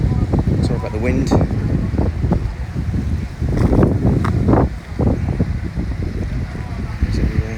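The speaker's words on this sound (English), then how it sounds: "Sorry about the wind." Wind buffets the microphone outdoors at a Barbados beach house building site, a steady rumbling gusty roar that fills the whole stretch with low-frequency bursts and no clear pause.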